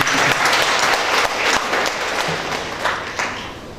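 An audience at an archaeology talk breaks into applause, a full burst of many hands clapping that is loud at first and gradually thins and fades toward the end.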